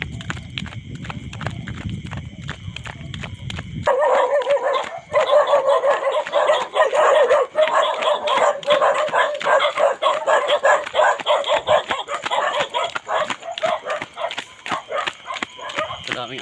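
Many dogs bark and yip at night along a dark road during a nighttime jog, a dense, loud chorus of overlapping barks, some near and some farther off, continuing for most of the stretch after a quieter start.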